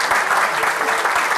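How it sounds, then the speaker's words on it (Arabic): Sustained, dense audience applause fills the studio at a steady, fairly loud level with no pauses, from a televised talk show. "صفقوا له صفقوا له"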